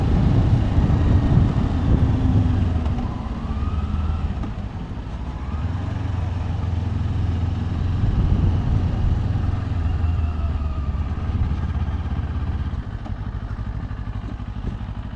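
Motorcycle fitted with Aliexpress bar end mirrors cruising at a steady pace, with a continuous low engine drone and heavy wind rush throughout and no talking.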